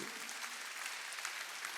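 During a Korean Wednesday church service, the congregation claps together in a dense, continuous burst of applause that stays fairly quiet and a little distant.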